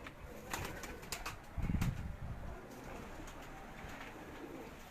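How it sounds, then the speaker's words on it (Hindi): Pigeons on a Karachi rooftop loft coo softly, a low throaty burst standing out briefly in the middle against faint background noise. "ये ज़फ़र भाई के माशाल्लाह बड़े मेन कबूतर हैं।"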